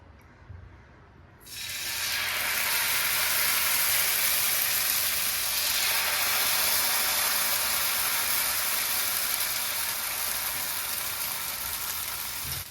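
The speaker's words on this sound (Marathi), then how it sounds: "बिडाचा तवा आहे चून रेडी आहे आणि घावण्याचं पीठही तयार आहे चला तर घावणी काढायला सुरुवात करूया" Rice crepe batter hits a hot cast iron griddle for a traditional Konkan ghavan and bursts into a loud, steady sizzle that carries on at a high level with no talking.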